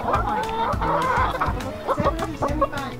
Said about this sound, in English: taking care of our chickens.